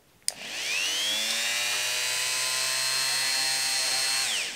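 A VonHaus rotary multi tool spins up after a click and runs steadily with a high, even whine and rising harmonics, close and loud, then begins winding down near the end.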